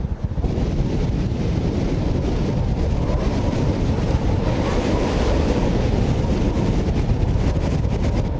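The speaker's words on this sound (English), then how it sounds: "65, maybe 70 miles an hour worth of wind." Strong wind of about 65 to 70 miles an hour roars continuously and loudly, buffeting the microphone with a dense, unbroken rush throughout.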